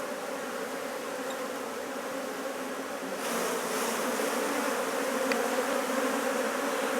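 A dense, steady drone of many honeybees hums around an opened hive as frames are worked, rising noticeably louder partway through and continuing without any voices.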